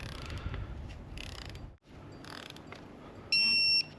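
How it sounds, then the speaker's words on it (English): A torque wrench tightens front cover bolts on a Cat 3406E/C15 diesel engine in a Peterbilt 379 truck. Close mechanical ratcheting clicks run through the clip, with a brief steady electronic beep near the end. "let's go ahead with torquing these things down"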